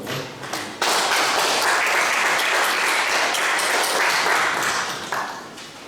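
A church congregation at a Korean prayer service bursts into warm applause for the pastor after the sermon, a dense burst of clapping that starts suddenly, holds steady and then tapers off.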